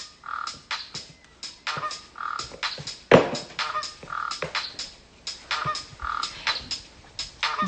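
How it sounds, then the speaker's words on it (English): Two birds call in repeated short squawks and caws, several per second in uneven bursts with one louder harsh cry near the middle, fairly close and clear with no talk. "This is just a couple of birds, Yucca and Fuchsia."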